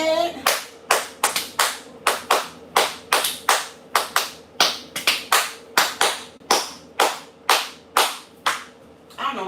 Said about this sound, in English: I guess I just wanted to clap.